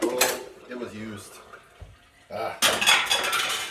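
Dishes, pots and metal cutlery clatter and clink in a home kitchen during breakfast cooking, in loud bursts separated by brief pauses, with faint running water and a voice heard only briefly.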